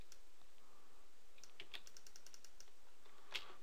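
Computer keyboard keystrokes pressing shortcuts while editing photos: a quick cluster of light clicks and taps mid-way, then a sharper single keypress near the end, close and crisp over faint room hum.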